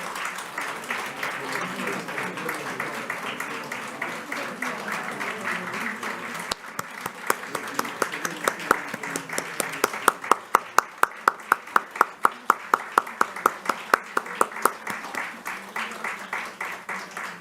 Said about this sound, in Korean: 함께 박수를 치겠습니다.